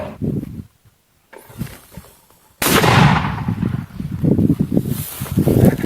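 Gunfire cracks out from a gun in sharp, loud bursts, with a sudden heavy blast midway followed by rumbling, irregular shots and a noisy outdoor background, no talking.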